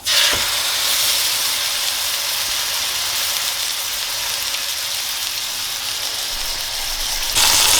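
A steak with garlic inserted into it goes face down into a hot pan and fries with a loud, steady sizzle and hiss that holds evenly, then swells briefly near the end, with no talk over it.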